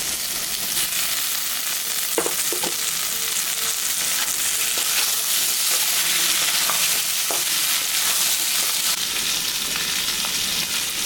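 Boiled potatoes and tomato frying in a pan for egg curry give a steady, close sizzle, with a few soft stirring scrapes and taps along the way.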